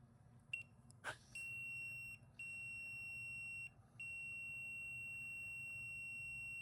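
Multimeter continuity beep while testing a 4EAT transmission valve body solenoid: a steady high electronic tone that starts after a few clicks, drops out briefly twice, then holds continuously over a faint background hum.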